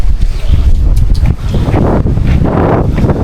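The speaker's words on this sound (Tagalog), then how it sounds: "Mahangin." Strong wind buffets the microphone in loud, continuous low rumbling gusts, with no talking.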